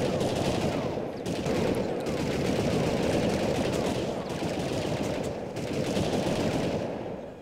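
Dense, continuous gunfire from the PS1 game Army Men 3D, rapid machine-gun bursts and overlapping shots packed tightly together, loud and close with only brief dips in the barrage.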